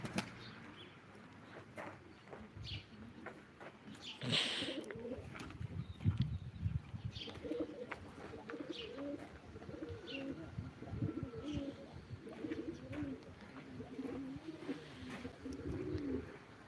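Pigeons coo steadily at a live pigeon auction, with soft repeated throaty burbling calls close by, occasional brief chirps and a light flutter of wings over low background noise.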